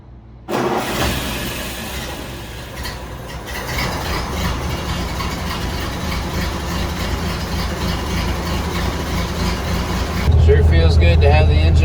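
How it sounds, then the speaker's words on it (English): A 1931 Ford Model A engine, just treated for a misfire with a new distributor cap and rotor, fires up and runs at a steady idle, a close, continuous mechanical drone that grows slightly louder near the end. "Sure feels good to have the engine running good again. Purring along."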